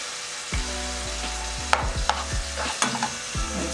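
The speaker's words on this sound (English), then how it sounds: "Just continue stirring." Liver frying in a pan with garlic on medium heat, stirred with repeated scraping strokes against the pan over a faint, steady sizzle, with several sharper clicks of the utensil.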